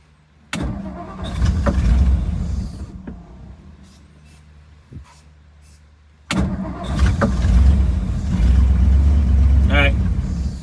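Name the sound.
1956 Ford Thunderbird engine starting and idling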